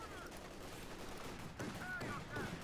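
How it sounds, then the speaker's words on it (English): Autocannon fire in the Company of Heroes 2 strategy game, a dense rumbling battle mix with bursts of rapid gunfire and distant explosions under steady background din, no voices. "And hammered by auto cannon fire."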